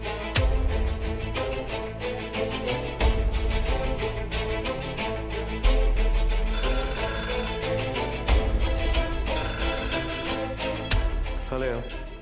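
A telephone rings in a dramatized crime scene as someone calls the police; two bursts of bright, repeated ringing sit over a dense bed of dramatic music and other sound.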